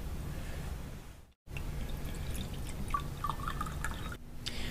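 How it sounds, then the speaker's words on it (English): Bottled water poured into drinking glasses, a steady splashing trickle with dripping, briefly broken by a moment of silence before the pouring resumes. "we're going to begin the demonstration by starting to pour these bottles of waters here into the glasses"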